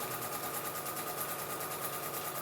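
A sewing machine running a lock stitch on a stuff sack: a steady, fast mechanical whirr with an even rhythmic chatter, close and continuous throughout, with no talking.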